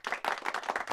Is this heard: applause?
yes